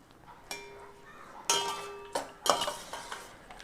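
A spoon clinks and scrapes in a pan while lemon rice is stirred, a few sharp metallic taps and brief scraping strokes, faint and close with otherwise quiet surroundings.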